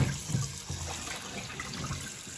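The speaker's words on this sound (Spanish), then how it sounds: "Ahora con agua fría le quito el vinagre." Cold tap water runs steadily over pork feet in a kitchen sink, a constant rushing splash with a few louder knocks and no voices.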